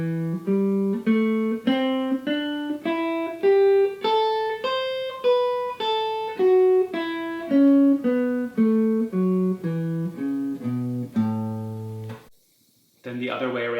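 Clean guitar plays a blended major and minor pentatonic scale, one note after another in an even rhythm, climbing and then descending, close and clear with no talk, then a brief pause before another note.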